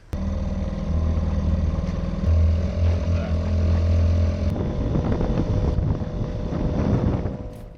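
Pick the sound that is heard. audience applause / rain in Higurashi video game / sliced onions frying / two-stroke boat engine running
two-stroke boat engine running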